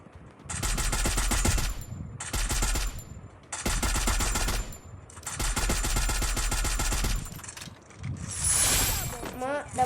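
Gunfire in a first-person shooter video game comes in several loud, sustained bursts of rapid automatic shots separated by brief pauses, followed by a shorter burst and a faint voice near the end.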